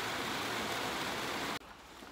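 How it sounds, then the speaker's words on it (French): Steady rain falls as a dense, even hiss, then cuts off abruptly near the end, leaving quiet background with no voices. "On va attendre que la pluie cesse"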